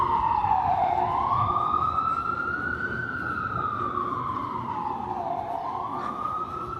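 A wailing emergency vehicle siren on a Manhattan street in New York City rises and falls in slow sweeps, loud and steady over rumbling traffic.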